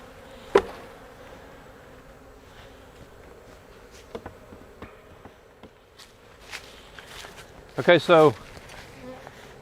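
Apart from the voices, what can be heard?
honeybees buzzing at an opened beehive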